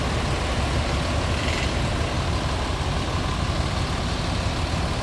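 A parked Budiman intercity bus idles at Giwangan bus terminal, its heavy diesel engine giving a constant loud rumble throughout.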